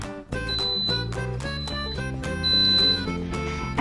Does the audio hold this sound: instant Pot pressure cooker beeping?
yes